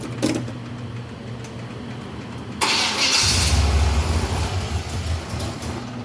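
A car engine starting after sitting unused for years: a quiet idle-free pause, then the engine cranks and catches abruptly, settling into a loud, rough, steady run close by.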